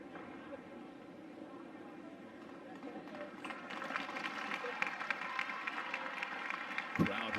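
Crowd at a college softball game, Oklahoma versus Iowa State, gives steady scattered applause and cheering in a large stadium, building slightly louder partway through, with an announcer's voice over it.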